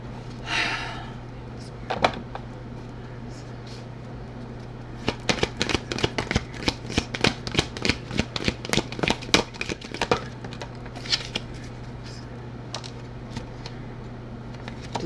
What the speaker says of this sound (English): So the cards have already been pre-shuffled for the sake of time, but I will do them once more for camera.